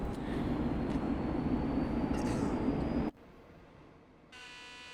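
A CD class 750 diesel locomotive in Train Sim World 6 under full power hauling a 600 m train uphill, a loud steady engine roar that cuts off abruptly to a quieter hum with a thin buzz.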